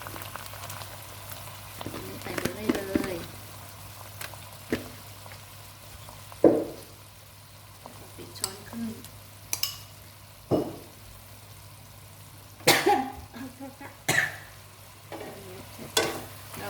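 Nearly half a kilo of sliced pork belly stir-fries with shrimp paste over high heat, a steady sizzle punctuated by intermittent scraping strokes of the spatula against the pan.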